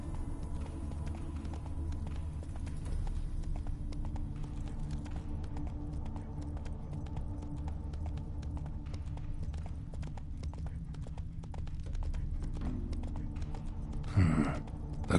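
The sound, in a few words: horse Roach galloping, from The Witcher 3 video game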